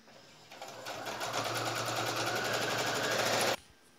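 A sewing machine runs a steady rapid stitch through three layers of frock fabric, a loud, even mechanical whir lasting about three seconds before stopping abruptly, alone with no talk.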